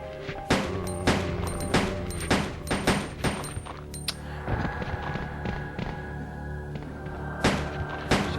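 Pistol gunfire in the survival horror game Resident Evil 2, played as Leon Kennedy in Scenario B: a rapid run of sharp, loud shots in the first four seconds, a pause filled with droning game ambience, then two more shots near the end.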